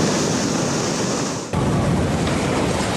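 Stormy sea waves crash against the seafront along via Villini a Mare in Sicily, a loud, continuous roar of surf and wind buffeting with a brief dip midway, with no voices.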